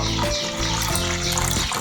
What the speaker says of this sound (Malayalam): മുന്തിരി നാരങ്ങാ നീര് പഞ്ചസാര ഉപ്പ് ഇട്ട് അടിച്ചതിനകത്തോട്ട് തണുത്ത വെള്ളം ഒഴിച്ചു കൊടുക്കുക